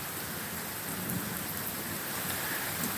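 Heavy, steady rain of a severe thunderstorm over Virginia Beach, a dense continuous hiss with low rolling rumbles of thunder underneath, close and unbroken throughout.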